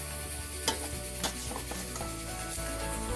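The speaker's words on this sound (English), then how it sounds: "give it a good toss, so that all of that onion tomato mixture coats the chard" Swiss chard being tossed with an onion and tomato mixture in a pan, with a steady low sizzle and a few scraping stir strokes, close and fairly quiet with no talking.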